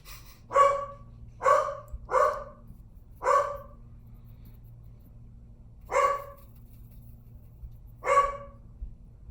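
A dog barks in single sharp yaps near a painting studio, six barks in an uneven rhythm with short and long gaps, fairly close and clear over a low steady hum.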